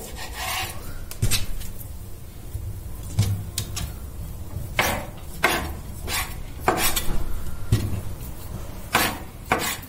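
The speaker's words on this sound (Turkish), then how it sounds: "Öncelikle tavuklarımızı küp küp küçük küçük doğruyoruz." Repeated knife chops on a wooden board as chicken is cut into small cubes, irregular thuds and scraping strokes at close range, with no talking.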